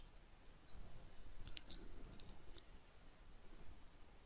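Computer mouse clicking during website building, a few faint sharp clicks over a steady background hiss, close but quiet, with no talk.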